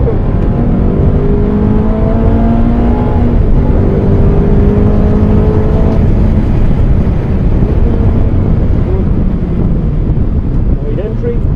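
A Fiat car engine pulls hard while held in third gear, a loud steady droning growl with rising pitch, buffeted by wind noise close to the microphone.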